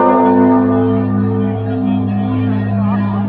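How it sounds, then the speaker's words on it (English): Large church bells ring out across Catania, Sicily, at noon with sustained, overlapping tones that hum and linger, a rich reverberant peal filling the air without pause. "And lots more bells ringing all over the city."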